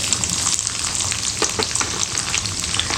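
A spoonful of dal with broken dried red chillies and green chillies crackles and sizzles loudly in hot oil for Ravan Bhat, with a dense continuous hiss and faint stirring taps, no voices.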